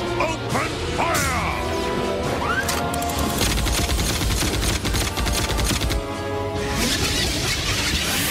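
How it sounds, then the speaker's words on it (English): Guns open fire in the Beast Wars Transformers cartoon, a loud, sustained barrage of rapid laser-like blasts and crashing impacts layered with whooshing effects and a musical score. "All guns, open fire!"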